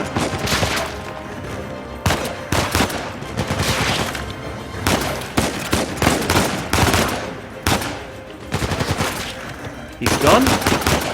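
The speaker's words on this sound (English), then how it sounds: "Ooh, that was a shotgun." Shotgun and other gunfire in the video game Uncharted 4: dense, loud volleys of sharp shots in rapid clusters with brief gaps, plus a short spoken voice.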